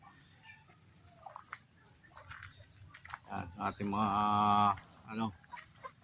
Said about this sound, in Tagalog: Total, yan ang mga manok ko.